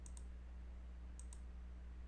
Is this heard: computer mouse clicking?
yes